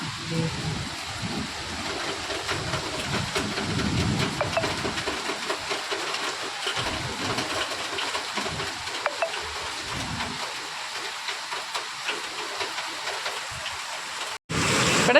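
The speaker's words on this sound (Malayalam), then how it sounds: "മഴ പെയ്യുന്നുണ്ട് ആലിപ്പഴം നന്നായിട്ട് വീഴുന്നുണ്ട്" Heavy rain with hail pours down in a dense, continuous roar, hailstones making scattered sharper impacts on a hard surface, and a sudden loud bang near the end.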